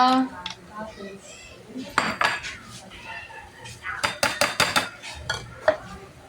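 Fresh carrots placed onto a plate in a home kitchen, with clinks, scrapes and a brisk cluster of light ceramic and cutlery taps, heard with some talking.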